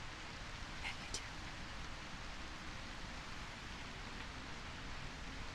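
Steady rain hisses throughout a scene in the video game A Quiet Place: The Road Ahead, a soft even wash of noise with a couple of faint brief ticks near the start.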